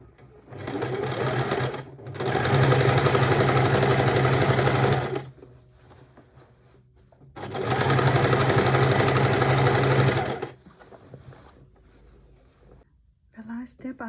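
A sewing machine stitches a seam on a large tote bag to secure its handles, in two sustained bursts of steady, rapid motor-driven whirring separated by a short pause, with quieter handling noise between and after them.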